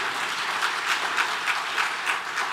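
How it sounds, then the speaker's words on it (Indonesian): Congregation applause at a GBI church worship service in Batam, a steady dense wash of many hands clapping with rhythmic swells, fairly close and continuous with no talk over it. "Beri tepuk tangan dulu buat Tuhan Yesus."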